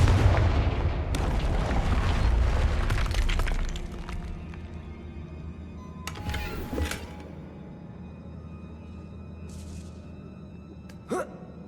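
Fire spell explosions burst in Hogwarts Legacy: a heavy rumbling blast for the first few seconds fades out, followed by a couple of sharper, fainter bangs and crackles against a quiet background.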